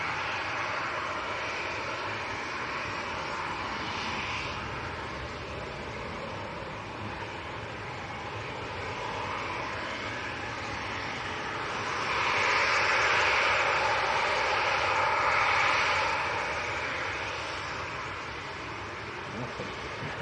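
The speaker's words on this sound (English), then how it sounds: "So this is Ryanair to Dublin, a good old 737-800." A Ryanair Boeing 737-800 jet at Manchester Airport produces a steady distant engine roar that swells louder in the middle before easing off, with light wind noise in the background.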